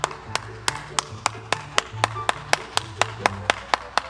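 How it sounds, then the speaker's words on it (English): Audience clapping for Nigel Clarke and Mark Golding at a debate event in Jamaica: crisp, evenly spaced claps in a steady, quick rhythm, fairly close and distinct, continuing for a few seconds. "Can I get a round of applause?"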